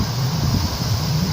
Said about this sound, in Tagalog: Mas lakas na naman na hangin.